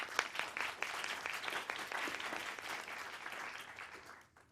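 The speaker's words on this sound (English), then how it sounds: "Give them a round of applause." A seated audience claps for panel presenters at the close of an afternoon discussion session, a fairly quiet, dense patter of many hands that holds steady and then fades out at the end.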